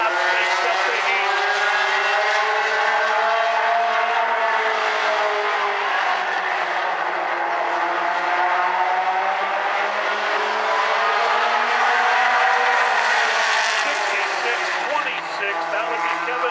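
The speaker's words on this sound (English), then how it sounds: "green flag, car number 64, Jack Allen, 8 laps makes up the heat" Mini stock race cars roar around South Sound Speedway in a heat race, a continuous loud pack of engines droning and shifting pitch as they pass, with an announcer talking over the noise throughout.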